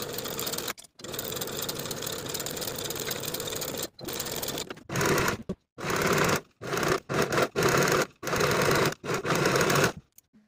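A sewing machine stitching a shirt's underarm and side seam from sleeve to hem, running in a fast steady whir, then stopping and restarting in short bursts.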